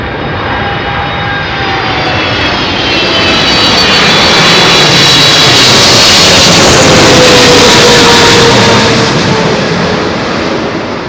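A Boeing 777 jet landing in a crosswind on runway 27L at London Heathrow roars past loudly, its engine whine swelling to a peak mid-way and easing off, with wind rumble and no talk.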